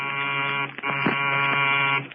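A harsh electric door buzzer from a radio drama drones loudly and steadily for about two seconds, its rasping tone cutting briefly near the middle before stopping.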